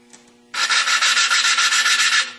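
Rough rasping scrape of lapping compound as an engine valve is ground against its seat, a steady gritty rubbing with rapid rhythmic pulses, loud and close, lasting about two seconds after a quiet start.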